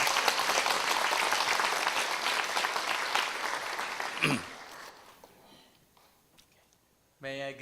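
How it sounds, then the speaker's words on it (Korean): Audience applause welcoming a speaker at a church gathering, dense and loud for about four seconds, then thinning into scattered claps and fading out before a voice begins speaking. "박수로 환영하겠습니다."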